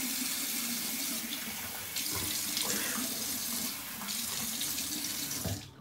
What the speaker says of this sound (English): I'm gonna wet my face with warm water.